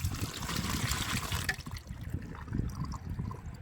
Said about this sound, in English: Draining straight through.